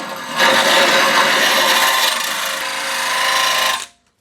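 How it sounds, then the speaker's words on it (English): A drill fitted with a cutoff wheel on an arbor grinds rust on a 1972 Super Beetle, giving a loud, steady, harsh abrasive whine with a rasping edge that runs for several seconds before cutting off abruptly. "I'm going to start with a cutoff wheel on an arbor"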